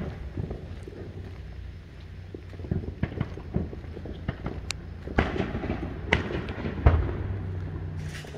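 Fourth of July fireworks burst at a distance in scattered thuds and cracks, some sharper pops among them, with wind buffeting the microphone throughout.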